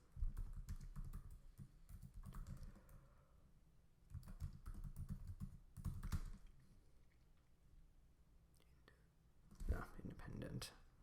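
Computer keyboard typing in quick bursts of soft clicks while entering a dashboard title in Tableau, with quieter pauses between bursts and faint low background hum.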